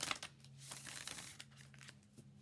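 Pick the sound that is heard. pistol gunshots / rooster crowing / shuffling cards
shuffling cards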